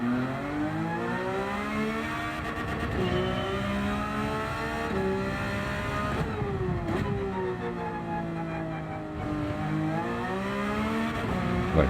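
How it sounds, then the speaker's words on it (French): A race car engine in Gran Turismo 7 at Laguna Seca revs and accelerates steadily and loudly, its harmonic pitch climbing and dropping through repeated gear shifts for the whole stretch with no talk over it. "faut faire attention à l'accélération de cette voiture."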